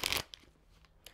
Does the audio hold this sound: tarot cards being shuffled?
yes